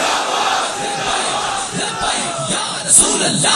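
A large crowd at a religious gathering roars a slogan in unison, loud and sustained for the whole span.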